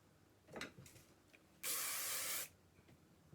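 Hairspray hisses from an aerosol can in one steady, bright burst lasting almost a second, close and loud against a quiet room with a few faint rustles before and after.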